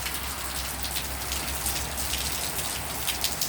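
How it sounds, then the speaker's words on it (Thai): Steady rain falls nearby, a dense hiss of drops pattering on surfaces with occasional louder splashes, no voices. "พอฝนมันตกนะครับ"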